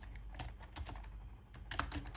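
Fast, uneven keystrokes on a computer keyboard while code is written in Python, a steady clatter of close taps with a brief pause midway, no voices.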